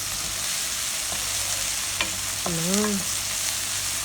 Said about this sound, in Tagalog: Haluin na naman natin hanggang lalambot yung ating nilulutong spices guys